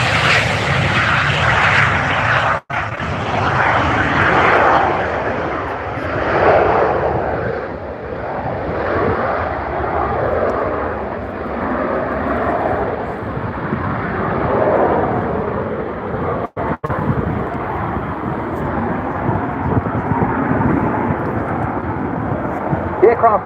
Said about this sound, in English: Just look at this, the Messerschmitt Me-262 from the Messerschmitt Foundation and Airbus Heritage.